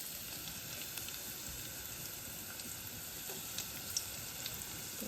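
Onion and garlic frying in hot oil in a pot give a steady, faint, hissy sizzle with occasional small pops and crackles, with no voices.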